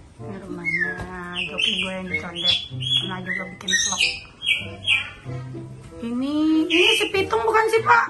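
A pet starling calls up close with a varied string of whistles, chirps, squawks and mimicking warbles, loud and busy, continuing for several seconds.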